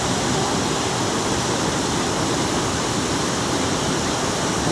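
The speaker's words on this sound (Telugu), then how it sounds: "దగ్గరలో ఉన్నటువంటి వాటర్ ఫాల్స్ చూపిస్తున్నానండి" Ethipothala waterfall in Andhra Pradesh roars as a dense, unbroken rush of falling water, loud and steady throughout with no voices.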